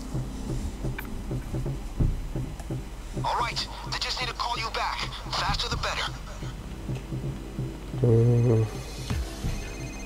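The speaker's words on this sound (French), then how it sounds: "j'ai répondu au téléphone." A telephone rings inside the Payday 2 video game, a short electronic ring tone heard near the end over game ambience and background noise, following a stretch of louder in-game activity.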